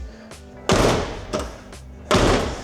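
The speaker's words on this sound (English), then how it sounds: "this door doesn't close actually" Two solid door slams from a Datsun 280Z whose door won't stay shut, each a loud close thud with a short rattle, the second following about a second and a half after the first, with quieter handling noise between.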